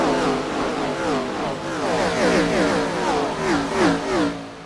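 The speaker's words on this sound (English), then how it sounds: "Love the way these cars sound." Several race cars accelerate together at a racing event, their engines rising and falling in overlapping revving sweeps at a loud, steady level with no voices.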